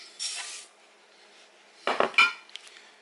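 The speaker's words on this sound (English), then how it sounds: "So the first thing you want to do is mix all your dry ingredients together in a large mixing bowl" Dry ingredients and oats being mixed in a large mixing bowl for homemade protein bars, heard as two brief bursts of clinking and scraping utensil against bowl, the second louder and closer, with quiet pauses between.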